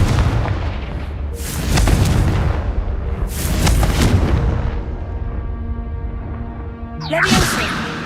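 A Confringo fire spell in the Hogwarts Legacy video game goes off as a run of loud booming blasts with whooshing bursts, separated by rumbling decay, and a final sharp burst near the end.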